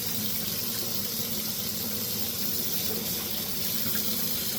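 Tap water runs in a steady, loud, unbroken stream, rinsing a plastic model car body stripped of paint, with no talking.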